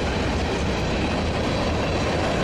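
A BNSF freight train passes close by as a loud, steady rumble and roar of rolling wheels on track, continuous with no breaks and no voices.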